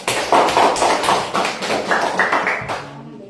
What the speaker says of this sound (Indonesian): Coba beri tepuk tangan untuk Ede.